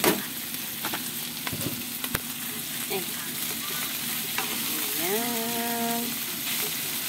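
Bitter gourd (ampalaya) hits a hot pan and fries, giving a steady sizzle with scraping stir strokes and clinks. A short voice speaks briefly over the frying.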